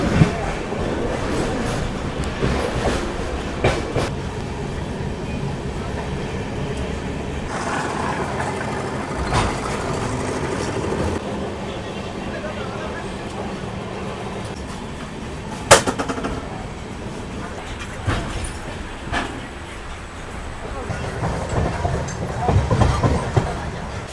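The 18045 Shalimar to Vizag express train runs on rails with a continuous rumbling roar and rhythmic wheel clatter, heard steadily from on board with occasional sharp clanks.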